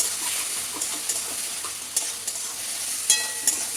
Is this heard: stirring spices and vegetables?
yes